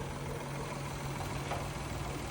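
A Perodua Kancil with a 660 cc AV engine and automatic gearbox idles steadily with a low, even hum and light vibration, heard close and alone with no talk over it.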